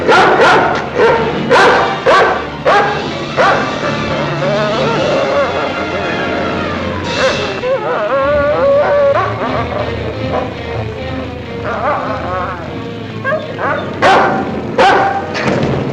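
A dog barks repeatedly in sharp bursts, some yips and whimpers between, with voices and music-like sounds mixed in around it.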